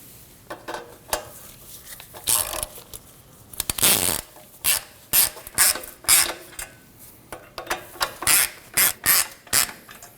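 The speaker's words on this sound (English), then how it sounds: "I'm going to get each one just touching before I go ahead and tighten all of them down" A ratchet tightens bolts on the rear CV axle of a 2003–2006 Subaru Baja 2.5L H4, making close, repeated clicking pulls. The pulls come in short, evenly spaced bursts with brief pauses between them.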